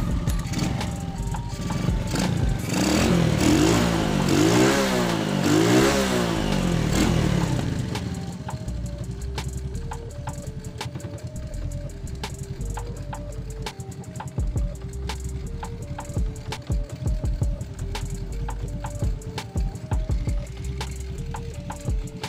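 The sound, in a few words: Honda Supra motorcycle engine started and revving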